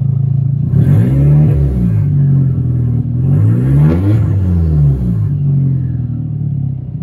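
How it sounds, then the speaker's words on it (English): A VW Passat B5 1.8T engine fitted with a Garrett GT25R turbo, revving close by in a loud, continuous rumble with rising and falling sweeps of turbo spool and several blips of throttle. "Listen to that turbo."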